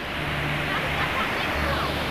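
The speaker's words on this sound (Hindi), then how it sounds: "अंधेरा हो चुका है और ये आप खूबसूरत झरने के बीच से हम लोग निकलते हुए जा रहे हैं।" A waterfall in the Pachmarhi hills pours at dusk, a steady, dense rushing roar heard close by throughout, with a faint low rumble underneath.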